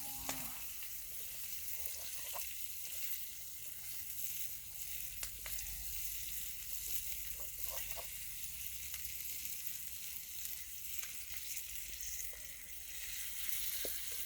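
Masala-coated fish fries in a pan at a farm house, a constant soft sizzle and crackle with scattered pops, faint and steady with no voices.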